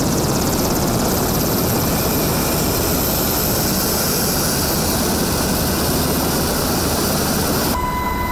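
A helicopter flies overhead during a disaster-response drill, a loud continuous roar of turbine whine and rotor thrum that holds steady throughout and cuts off sharply near the end.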